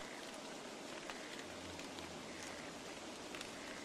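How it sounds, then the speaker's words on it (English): Soft, steady rainfall in the survival video game Don't Starve, a faint continuous hiss of drops with a low rumble underneath and no talking. "Oh, it started to rain."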